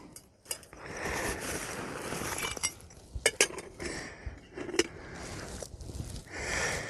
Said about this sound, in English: I've got the Pathfinder stainless steel bottle and pot set.